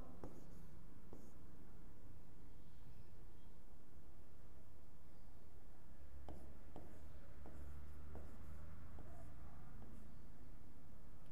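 Writing on a board during a Marathi grammar lesson: steady scratchy strokes and taps, close and fairly quiet, in short bursts with brief pauses between words.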